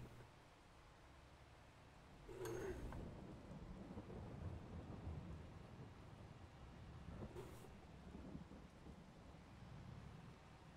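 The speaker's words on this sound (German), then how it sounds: "Regen, Regen, Regen." Steady video game rain in Landwirtschaftssimulator 22 hisses alongside a low, distant rumble of thunder, with two brief swells rising above the constant wash.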